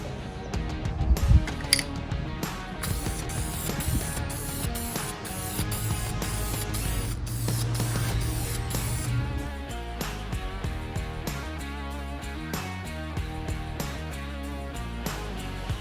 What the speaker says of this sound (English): So we're going to spray paint it.